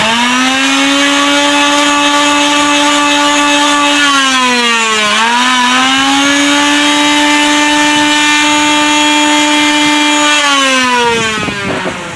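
Power tool chasing threads, a loud steady whine holding pitch, dipping twice as it loads, then easing off at the end, no talk.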